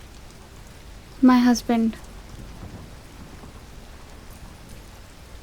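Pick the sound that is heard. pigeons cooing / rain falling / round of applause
rain falling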